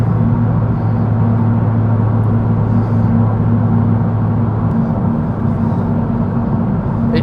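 Interior of a stripped 360 bhp Renault Megane RS track car under way, a loud, steady engine drone with constant low rumble filling the cabin throughout, no talk.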